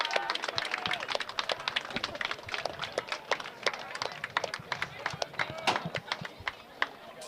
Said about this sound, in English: You hear the applause from the crowd here.